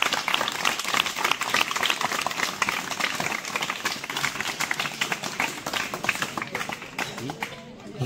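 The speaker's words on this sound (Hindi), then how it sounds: "एक बार जोरदार तालियों से स्वागत करें" An audience claps loudly in a dense, continuous round of applause to welcome guests at the opening of a National Service Scheme special camp, the clatter of many hands sustained and only easing slightly near the end.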